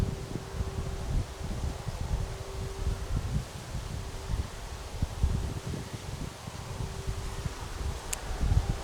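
Constant wind buffeting the microphone, low gusty rumbling with rustling bursts throughout, no voices.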